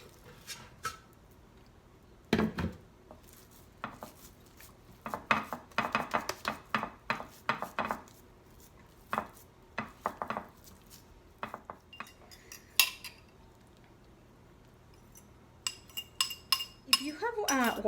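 A spatula scrapes meatloaf mixture out of a Thermomix jar, giving a close series of irregular scrapes, clinks and knocks against the jar and blades that come in bursts over the whole stretch.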